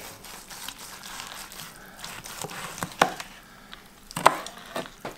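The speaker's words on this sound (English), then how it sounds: "I'm gonna slice a little end piece off here" A knife slices a small end piece off a prime rib roast cooked on a Pit Boss Austin XL 1000 pellet grill, with quiet cutting and two sharp knocks against the board. No one talks.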